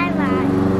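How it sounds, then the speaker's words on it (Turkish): A lawn mower engine gives a brief, steady, loud droning hum close by as it moves off. "Çim biçme makinesi gidiyor"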